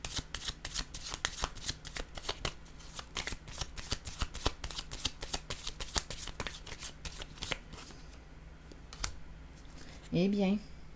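Playing cards are shuffled, handled and laid down during a tarot-style card reading, a busy run of close, dry flicks and taps for about eight seconds, then quieter, with a voice speaking briefly near the end.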